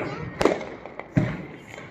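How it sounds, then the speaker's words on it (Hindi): Sutli bomb firecrackers bursting at a Diwali celebration in Jaipur, two sharp booming thuds about three-quarters of a second apart with a faint pop between, moderately distant with voices in the background. "दमादम सूतली बम फोड़ रहे हैं"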